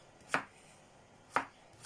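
Potatoes are chopped with a knife on a board, three sharp separate knocks spaced about a second apart, close and clear against a quiet room.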